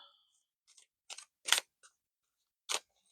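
Tarot cards give a few sharp, crisp papery snaps and flicks at close range, irregularly spaced with near silence between them.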